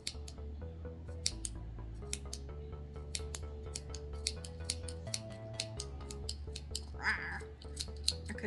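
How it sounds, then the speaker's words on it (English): Scissors cutting through thick French terry fabric for a racerback hoodie, a run of crisp snipping clicks over a steady musical background, with no talking. "I'm having to use the scissors because this little is too thick."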